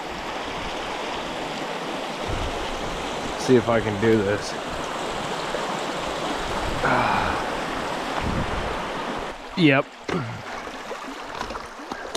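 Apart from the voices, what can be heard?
bicycle riding through a creek crossing, flowing water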